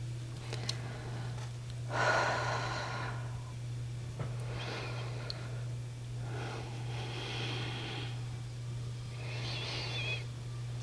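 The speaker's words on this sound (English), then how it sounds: "Relax the shoulders. Nice deep breaths." Slow, deep breaths drawn and released during a beginner yoga hip stretch, several soft airy inhale-exhale swells spaced a few seconds apart over a steady low hum, with no talking.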